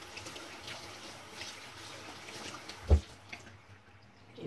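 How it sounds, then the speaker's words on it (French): Lukewarm tap water runs steadily over reusable cotton makeup pads being rinsed, a soft continuous splash close by with one brief louder knock partway through, and no voices. "je vais juste repasser à l'eau tiède"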